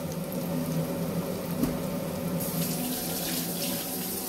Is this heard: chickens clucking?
no